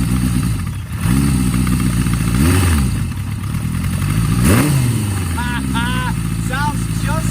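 A Kawasaki KZ1000 motorcycle, bought cheap and restored, runs loud and close. Its engine swells and drops in several rev sweeps over a steady idle, with a voice briefly audible near the end.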